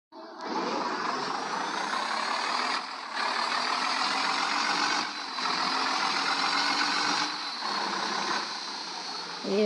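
A truck in a driving game idles with a steady engine drone while a reversing alarm beeps in regular pulses at roughly two-second intervals, sustained and up front throughout.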